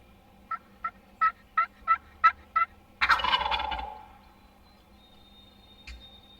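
A wild Tennessee turkey gobbles nearby in open country: a series of about seven short evenly spaced clucks builds into one loud rattling gobble, followed by quiet and a faint distant call.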